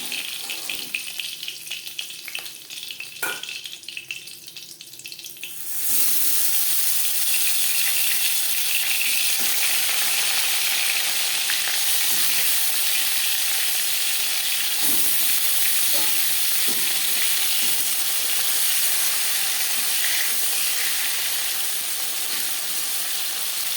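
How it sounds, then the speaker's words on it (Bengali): Koi fish fry in oil in a pan for Bengali tel koi, a loud, steady sizzling hiss that swells after a quieter opening with faint clinks, continuing close and unbroken with no voices. "পরের মাছ একইভাবে ভেজে নেব"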